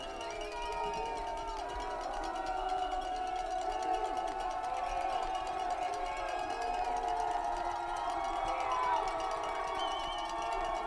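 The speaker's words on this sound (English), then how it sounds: "Crowd's kind of excited here." Crowd at a high school football game between Butte and Hellgate, a steady roar of many excited voices and cheering from the stands, holding at a constant level throughout.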